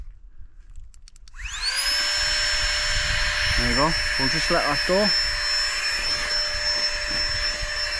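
A Flextail Tiny Pump 2X electric air pump, used at a wild camp in the Cheviots, starts up with a rising whine and keeps running as a loud, steady high-pitched drone while a person speaks briefly over it.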